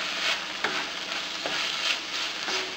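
A sautéed Filipino string bean dish with ground black pepper is stirred in a hot pan, steady sizzling broken by a few scraping strokes, close and moderately loud.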